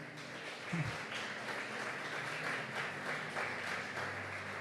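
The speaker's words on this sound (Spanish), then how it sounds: "Denle un aplauso al Señor." A church congregation applauds steadily during a sermon, a continuous wash of clapping that sounds fairly distant and even throughout.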